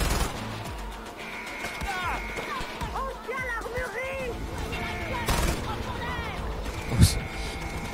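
Gunfire from the video game Far Cry 4 during a capture-the-flag domination match, with scattered shots, bursts and bullet impacts in a busy mix, one sharp loud crack near the end, while someone talks over it.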